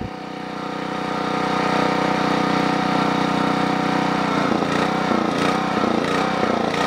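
A Generac 8838-0 portable generator's small engine runs with its choke slightly opened, a loud, steady mechanical drone that swells up after start and then stumbles and surges unevenly near the end.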